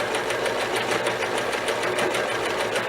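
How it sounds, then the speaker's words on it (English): A sewing machine runs a three-step zigzag stitch, three stitches left and three right, in a fast, even mechanical whir with rapid rhythmic needle clatter. It is close and continuous, with no voices. "you can actually see the sewing machine sewing 3 left and 3 right"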